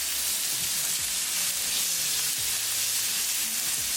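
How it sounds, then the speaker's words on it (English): Spices and hot link sausage frying in a tadka for rice pilaf, a steady, close sizzle with continuous crackle and occasional stirring scrapes, with no talking. "Cook the spices along with tadka for 1/2 minute."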